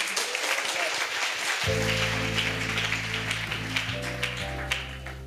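Congregation at a church crusade in Bafoussam clapping and cheering together, a dense wash of applause that carries on throughout while a sustained organ or keyboard chord enters partway and holds under it.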